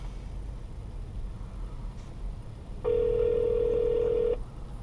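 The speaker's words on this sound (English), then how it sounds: "So right now I'm calling our store." A steady electronic dial tone from a 2015 Honda Odyssey EXL's phone system sounds for about a second and a half over a low engine hum, with no talking.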